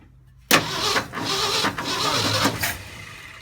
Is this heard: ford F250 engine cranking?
yes